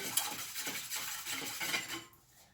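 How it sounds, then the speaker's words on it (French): A whisk or spoon clinks quickly against a bowl as egg yolk is beaten into cold water for tempura batter, a soft rhythmic scraping and tapping, close and fairly quiet, fading out at the end. "je mélange mon jaune d'œuf avec l'eau"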